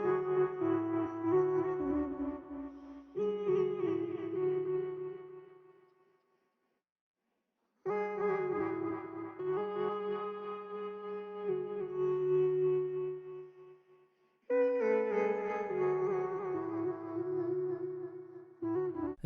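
A rendered vocal-texture sample for a dark R&B beat in FL Studio, pitched twelve octaves up and down with ping pong delay, plays in sustained layered phrases with a clear gap of silence midway and no talking.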